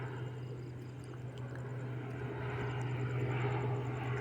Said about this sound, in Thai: เนี่ยตอนนี้ก็เครื่องบินมาละ เครื่องบินมาละ